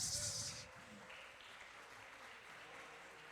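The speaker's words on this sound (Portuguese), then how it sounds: "Só você que crê, começa a aplaudir o Senhor, que Ele merece." A congregation claps during a church worship service, starting with a brief louder burst and then settling into quiet, distant, steady clapping.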